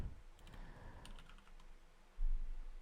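Typing on a computer keyboard, a short burst of close, quick, light key clicks while a command is entered, followed by a low thump, with no speech.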